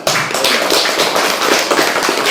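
Hands clapping in an Indonesian science classroom, a dense, steady patter of many claps from a group of students filling the room at close range, with no talk over it.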